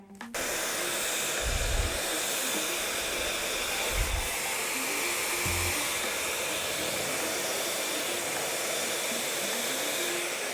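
A hair dryer blows steadily and loudly while hair is blow-dried at home, a constant close whoosh that runs for about ten seconds after a quick switch-on, with faint low thumps from handling.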